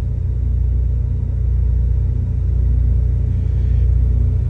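A Carrier auxiliary power unit on a Kenworth truck runs with its fan on high, giving a loud, steady low rumble with a constant mechanical hum and no breaks.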